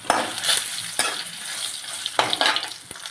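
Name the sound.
dry red chillies and spices frying in a pan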